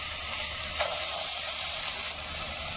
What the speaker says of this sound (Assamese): এতিয়া কেৰাহীৰ গাহৰিখিনি ভাজি ল'ব লাগিব শুকানকৈ অলপ